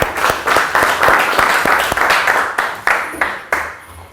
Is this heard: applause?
yes